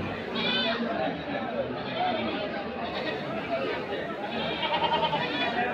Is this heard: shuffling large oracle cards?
no